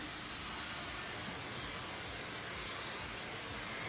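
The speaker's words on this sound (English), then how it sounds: "you always want to make sure that your blow dryer is pointing down and smoothing out the cuticle" A handheld blow dryer runs steadily close by, a continuous broadband whoosh of airflow with no breaks, used with a brush while blowing out hair.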